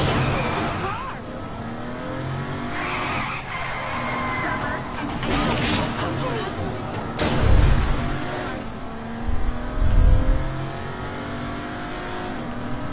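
A car driving in Saints Row 3, engine revving and surging with tire noise and a couple of heavy low thumps, loud and continuous with game sounds and a voice talking over it.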